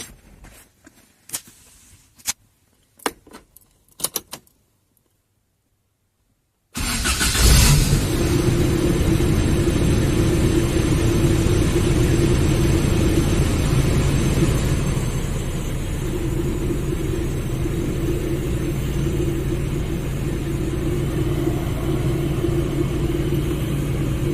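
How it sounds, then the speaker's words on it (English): A 1995 Holden Isuzu Rodeo engine cranks and catches after a few seconds of near silence, then settles into a steady, loud idle rumble that continues for about eighteen seconds, with a slight drop in level partway through. "So I'll just turn the engine on."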